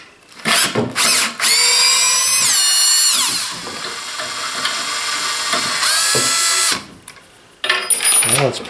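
A power drill backs out the single screw holding an old piece being replaced, with loud rising and falling motor whine in bursts, pauses between, and a brief ratcheting at the end.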